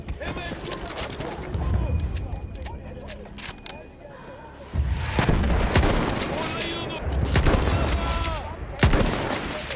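Gunfire from the Battlefield 1 video game in a desert setting, with repeated sharp shots and bursts scattered through noisy combat, mixed with someone talking excitedly over the action.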